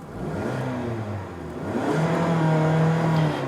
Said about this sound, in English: We'll go ahead and rev it up from the inside a little bit.